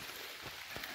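Rain falling outdoors on a trip near Puerto Princesa, a brief steady hiss of drops with a faint patter underneath.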